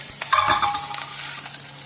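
Chopped onions and chilli sizzle in hot oil with cumin and five-spice in a pan, with a spoon scraping and stirring through the gentle, steady frying.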